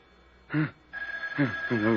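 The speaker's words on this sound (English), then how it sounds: "Can't you hear the phone?" A telephone bell rings in short bursts while voices speak over it, fairly close.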